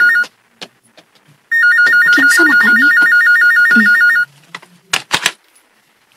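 A phone's electronic warbling ring sounds loudly for a few seconds, then stops; a voice speaks briefly before and after with some clattering handling noises.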